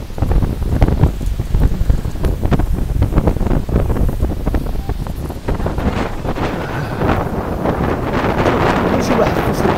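Storm wind buffeting the microphone beside a rough, churning sea, with loud continuous roaring gusts and crashing water throughout, and a voice speaking faintly underneath.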